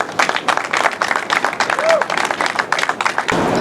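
Audience applause at a Remember the 400 Freedom Month event as founder Shadrock Porter approaches the podium: steady, dense clapping throughout, ending with a brief crowd swell.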